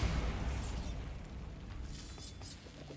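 A Bombarda spell explosion in Hogwarts Legacy, a heavy low rumbling blast that starts loud and slowly fades over a few seconds, with some crackling debris and a faint higher ringing on top.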